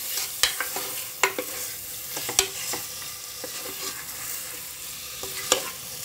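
Tomatoes frying in a pan for a vegetable sabzi, with a soft sizzle broken by repeated spatula taps and scrapes against the pan at an uneven rhythm. No one speaks.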